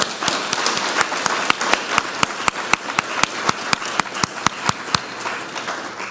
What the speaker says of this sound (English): let's give them a wonderful round of applause